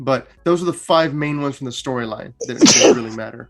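A sharp sneeze bursts out near the end, after a stretch of someone speaking.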